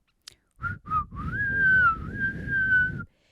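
Someone whistles nearby: two short notes, then a long sustained note that wavers slightly in pitch before stopping, with a faint low rumble underneath.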